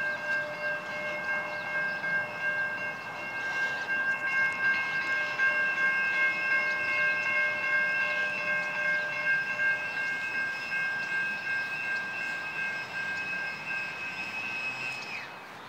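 An MTS trolley train passes a railroad crossing in San Ysidro, with steady sustained crossing or horn tones ringing over rumbling rail noise at a fairly even, moderate level throughout.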